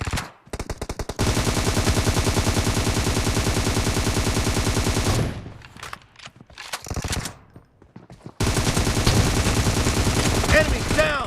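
Assault rifle fire in PUBG Mobile during a team deathmatch, loud rapid automatic bursts, a long sustained stream, then a gap with scattered shots before another heavy burst.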